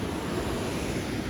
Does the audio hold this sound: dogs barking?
no